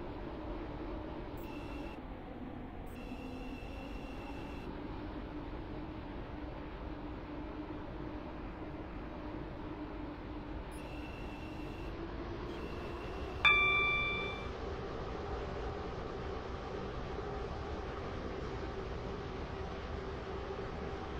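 A train runs steadily in the Roblox Stepford County Railway game, a continuous low rumble with a few faint chimes and one sharp clank partway through.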